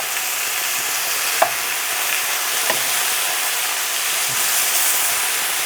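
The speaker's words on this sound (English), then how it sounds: "And the smell of the searing beef" Beef searing in a hot pan on a hob at full power gives a continuous loud, close sizzle and hiss, with a few faint clinks from the pan and no talking.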